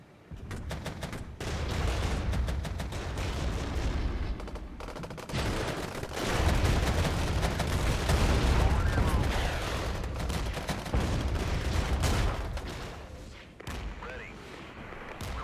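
Sustained support gunfire and heavy battlefield shots in the strategy game Regiments, in rolling loud bursts with thumps and rumbling impacts over a long stretch, and a voice talking briefly over the combat at moments.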